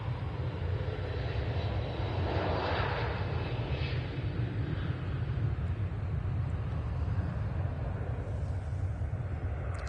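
A heavy Boeing 757 on its takeoff roll at Manchester Airport, bound for Tenerife, gives a steady, loud jet roar with deep rumble that holds throughout, heard from a distance with no talk.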